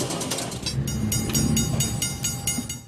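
A train at the Illinois Railway Museum in Union, Illinois, rumbles past nearby with a steady low roar and a regular clickety-clack of wheels over rail joints, loud and continuous with no talk.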